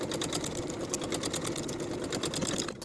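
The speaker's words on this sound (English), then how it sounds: "take it to your machine and edge stitch those open edges closed" A sewing machine edge stitches the open edges of fabric belt loops closed for a kimono robe jacket, running in a fast, even rhythmic chatter at moderate volume before stopping abruptly.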